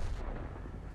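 A tank gun in an online tank battle game fires a deep, booming shot that rumbles loudly and fills the short moment, with no talking.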